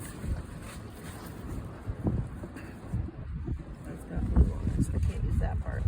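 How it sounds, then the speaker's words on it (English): Gusty wind buffeting a microphone outdoors while working with bees, loud low rumbling that rises and falls in bursts, with a voice talking underneath. "That wind is just a pain today."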